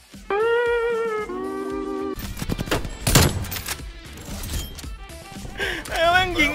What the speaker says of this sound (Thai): ไอ้แม่งยิงหมดแม็ก